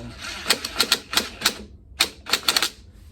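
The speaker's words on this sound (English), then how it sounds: "I'm going to go ahead and use my impact gun and tighten these bolts down" Impact gun tightening bolts on an electric Ford Ranger battery pack, firing in short, sharp rattling bursts: a rapid cluster of hits, a brief pause, then another quick cluster, close and loud.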